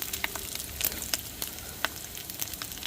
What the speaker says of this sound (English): I decided to let you see the bacon cook.